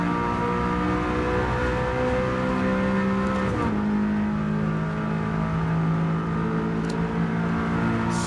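A race car engine held at high revs on a hot lap in Gran Turismo 7, a loud steady droning whine that drops briefly in pitch mid-way around a shift or braking point, then climbs and holds again.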